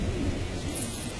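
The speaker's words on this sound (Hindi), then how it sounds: "मुझे नहीं लगता ये 2-3 घंटे तक रुकेगी बारिश।" Steady heavy rain with a low thunder rumble, continuous and fairly loud throughout, with no voices.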